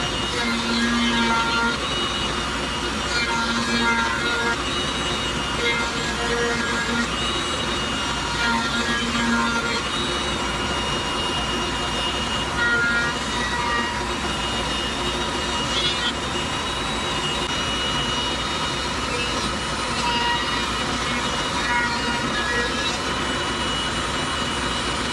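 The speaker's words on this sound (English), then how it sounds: "now we got our round over bit on the router table. I'm going to round off all the edges" Router table with a round-over bit rounding the wooden edges of a handmade canoe seat, a loud, steady, high-pitched motor whine running continuously with slight shifts as the wood is fed.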